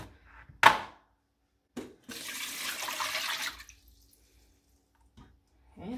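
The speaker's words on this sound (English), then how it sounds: "Put in some water." Water from a tap runs into a pot for boiling potatoes, a close, splashy gush lasting about a second and a half, with clicks and handling knocks before and after.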